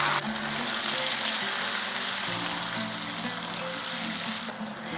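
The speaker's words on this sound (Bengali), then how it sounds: "আদা মোটামুটি কষানো হয়ে গিয়েছে, খুব সুন্দর গন্ধ বেরিয়ে গিয়েছে, ঠিক সেই সময় দিয়ে দিচ্ছি টমেটো বাটা" Tomato paste hits ginger frying in oil for a Bengali rohu fish curry and sets off a loud, continuous, close sizzle that holds steady throughout without talking.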